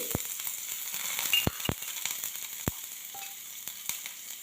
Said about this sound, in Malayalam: ഇതൊന്ന് വഴറ്റിയെടുക്കണം നമുക്ക്